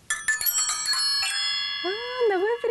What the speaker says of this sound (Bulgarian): Какво това са камбанки от стари телефони.